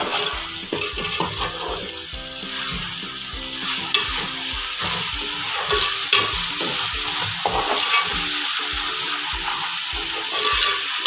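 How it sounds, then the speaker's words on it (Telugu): Spiced masala paste of ginger, garlic, cumin, cinnamon, cloves, poppy seeds and coconut sizzling in a pan for cashew curry, with a steady loud fry and repeated scrapes of a spoon stirring throughout, no voices. "ఈ మసాలా వేస్తున్నాను. మసాలా వేగాక పచ్చిమిరపకాయ పోయేంత వరకు వేగాలి."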